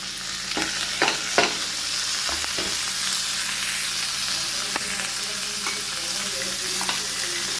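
Tomato and onion stir-fried in a pan for uttapam, a steady close sizzle running throughout with several sharp scraping clicks of a spatula in the first half.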